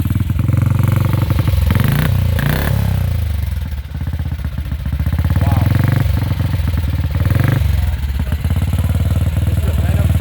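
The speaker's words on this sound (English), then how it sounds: "This is a Venom 70 Velocity. Sounds good." A Venom 70 Velocity motorcycle engine runs loud and close at a classic British bike gathering, a rough, thumping idle with brief blips of throttle, while a voice briefly exclaims over it.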